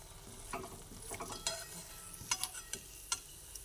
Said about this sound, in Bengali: গ্যাসের ফ্লেমটা কমিয়ে নিয়ে আস্তে আস্তে করে এধার ওধার করে লুড়োগুলোকে আমি ভেজে নিলাম